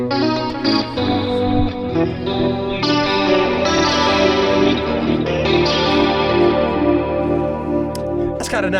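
Electric guitar played through an amp with a chorus effect, a shimmering, wide, slightly distorted tone of sustained chords and notes, loud and continuous, with voices briefly chatting over it.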